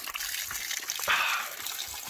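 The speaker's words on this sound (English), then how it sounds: "this is finest spring water." Spring water trickling and splashing beside a hiking trail, a soft continuous flow heard close by and fairly quiet, with no one talking.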